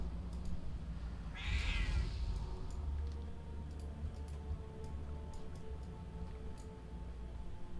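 A cat gives a single short meow, quiet and fairly close, rising briefly above a hushed room background with scattered faint ticks.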